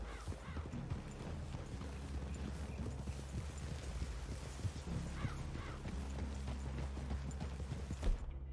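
Horses' hooves clip-clop at a steady walking pace on a forest trail in the video game Red Dead Redemption II, layered over a constant low rumble, with no one talking.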